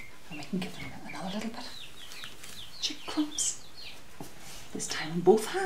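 Young chickens clucking and peeping near people: soft scattered clucks and chirps come and go under steady talk, close but quiet.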